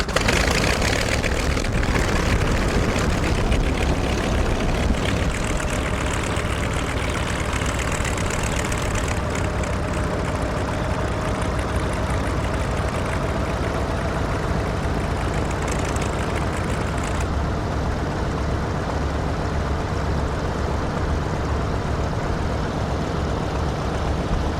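Mitsubishi A6M5 Zero fighter's 14-cylinder, 1,700 cubic inch Sakae 31 radial engine idling, a loud, steady low rumble close by that holds evenly throughout with no talk.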